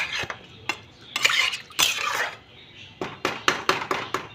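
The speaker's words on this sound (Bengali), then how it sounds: "ফুলকপি আলু ভালো করে ভেজে নিয়ে মশলা দিয়ে ভালো করে কষলাম" Fried cauliflower and potato with spices stirred in a pan, a spoon scraping and clinking against the metal in sharp irregular strokes, then a quick rhythmic run of taps near the end, with a faint sizzle beneath.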